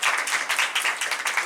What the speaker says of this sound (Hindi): तो अपने लिए जोरदार ताली बजाएं। इतना ही ज्यादा और जोर से।